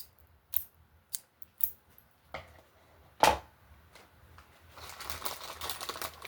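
Scissors make several crisp snips in a reiki cord-cutting ritual. The close, distinct cuts are spaced apart and end in one louder snip, followed by soft rustling.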